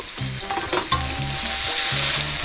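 Shrimp sizzle and crackle steadily in a hot wok with garlic, with scraping stir-fry strokes and a low hum running underneath throughout.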